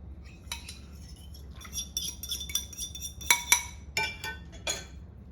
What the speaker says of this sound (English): be a little easier for me to mix with a fork rather than a spatula